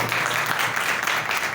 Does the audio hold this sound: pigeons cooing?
no